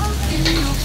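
Chopped onion sizzles steadily in hot oil in a frying pan while being stirred, a close, continuous frying hiss with scraping stir sounds throughout.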